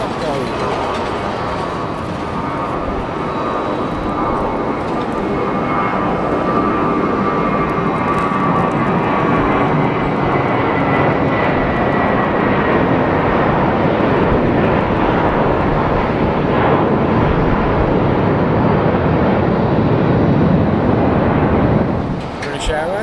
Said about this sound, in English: British Airways, the A320, and that is going to Stockholm.